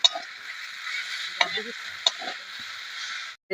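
Vegetable chow mein stir-fries in a hot pan with a steady, close sizzle, broken by a few sharp scrapes and clanks of a spatula against the metal before the sound cuts out abruptly.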